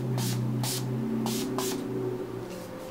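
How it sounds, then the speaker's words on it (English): Several short hissing bursts of an Urban Decay All Nighter setting spray nozzle, four or five puffs in quick succession over a faint steady hum. "This is the time for your setting spray."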